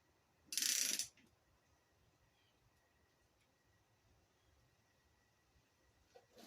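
A ratchet wrench tightening 19 mm bolts on the radiator fan of a 2001–2007 Ford Escape, one loud, close burst of rapid clicking lasting about half a second, then near silence with a faint tick at the end.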